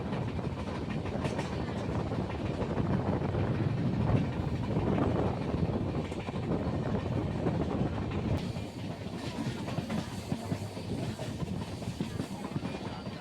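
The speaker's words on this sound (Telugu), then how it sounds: "కొత్త ఎల్హెచ్బి రేక్స్, అది ఏ ట్రైన్కో మరి మనకు తెలియదు." A train made up of brand-new LHB coaches rolls past near Secunderabad, a loud continuous rumble with rhythmic clickety-clack of wheels over rail joints, easing slightly toward the end.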